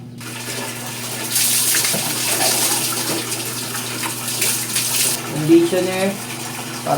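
Water pours steadily from a tap during a shower, with shampoo in use, making a continuous close hiss and splash, with a voice briefly heard over it near the end.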